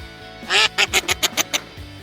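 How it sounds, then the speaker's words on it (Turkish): A burst of quick, nasal quacks, six or seven in a fast run, sounds close and fairly loud against a soft background. "Ördekler ne diyordu? Vak vak vak."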